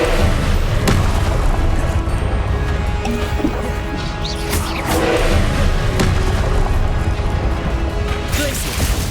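A Confringo blasting spell going off in the Hogwarts Legacy video game: dense, loud bursts of booming and crashing impacts amid continuous game noise, with some speech mixed in.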